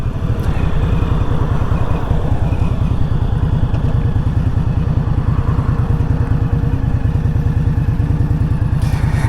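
An Indian Scout Bobber motorcycle is ridden with its engine thumping in a loud, rapid, steady pulse close by, along with some wind and road clatter and no voices.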